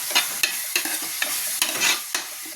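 Onions sauté in a pan for chicken curry, quick scraping stirs every few tenths of a second over a constant close sizzle, with no talking.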